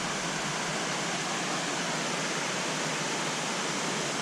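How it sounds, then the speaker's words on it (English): A sweet waterfall beside a fishing spot pours a steady, dense roar of rushing water, unbroken and fairly loud throughout with no voices. "And here we are coming up to this sweet waterfall. You can probably hear it already."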